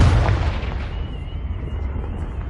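Confringo blasting spell in Hogwarts Legacy, a loud close explosive boom at the start that decays into a long rumbling tail with ringing debris.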